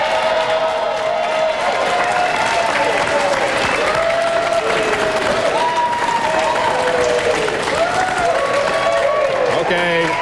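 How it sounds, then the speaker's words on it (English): Sustained audience applause and cheering fill the stands at Daytona International Speedway for Ray Evernham after the 1999 Daytona 500, a dense steady wash of clapping with crowd voices and talk mixed in throughout. "Nice round of applause for Ray Evernham."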